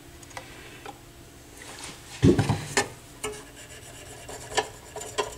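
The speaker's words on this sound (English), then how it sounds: "But I will clean this guide rod." Rubbing and scraping as gunk is cleaned off the guide rod of a Kenwood KD-66F turntable tonearm, a cluster of close, rasping strokes mid-clip followed by a few lighter scattered scrapes and ticks.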